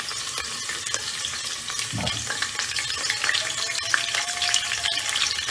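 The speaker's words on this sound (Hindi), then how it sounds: "1/4 कप ऑयल लिया है। इसमें अपनी प्याज को कच्चा पक्का करना है।" Onions sizzle steadily in a quarter cup of hot oil while being stirred, a continuous close frying hiss with occasional scraping of the spoon against the pan.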